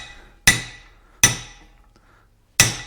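On a 1975 Ford 550 truck, a hammer drives a bushing into a steel spindle with three sharp metallic blows, evenly spaced and close, each ringing briefly before fading.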